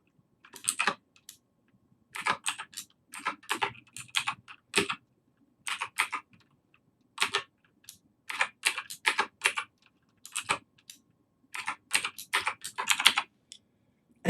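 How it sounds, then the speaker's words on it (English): Rapid bursts of computer keyboard typing during spreadsheet work, keys clattering in uneven runs separated by short pauses, close and clear with no talking. "Lots of fun typing here."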